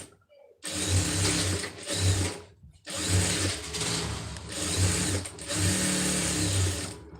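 A sewing machine stitches the lining of a blouse in three steady whirring runs, each separated by a short pause, close and clear with no talk over it.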